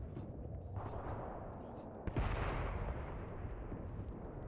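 Artillery fire in the WWII tank game Mius Front: a continuous heavy rumble of distant barrage with a sharper, louder boom at about two seconds, then sustained low thunder.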